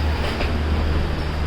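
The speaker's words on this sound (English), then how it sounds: "So there's another train leaving." A train pulls out of a station with a steady, close, low rumble and a faint humming tone, heard continuously throughout.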